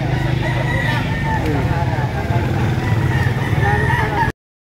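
A rooster crows at a gamefowl sale in Lipa, Batangas, with long, loud harmonic calls repeating over other fowl and a steady background murmur.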